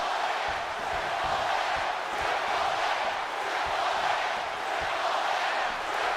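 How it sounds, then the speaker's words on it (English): Arena crowd in WWE 2K25 cheering steadily at a Tokyo event, a dense, continuous roar of many voices that stays even and fairly loud throughout. "This crowd right here in Tokyo is showing some hospitality for Triple H"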